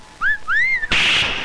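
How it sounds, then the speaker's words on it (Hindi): A person whistles a short, tuneful melody of sliding notes, loud and close, followed by a burst of bright hiss or noise. "वाह, कितनी सुरीली सीटी थी।"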